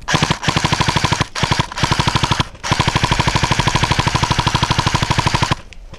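Airsoft guns lay down cover fire during an outdoor game in a canyon, rapid mechanical bursts in short strings broken by brief gaps, then one long sustained volley, loud and close with no talk.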